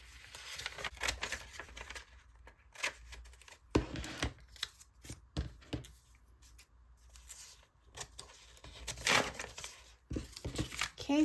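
Crisp snipping of stamp scissors through paper stamps, a series of short irregular cuts with rustling between, close and fairly quiet, no talking.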